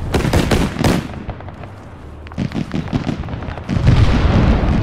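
Autocannon fire in the ArmA 3 video game: a rapid burst of heavy booming shots at the start, a lull, then more scattered reports and a dense rumbling barrage near the end, loud and without speech.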